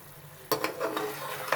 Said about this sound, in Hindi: 5 मिनट हो गए हमारे मसाले पकते हुए